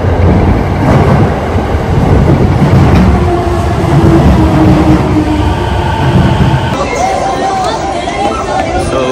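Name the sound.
metro train ride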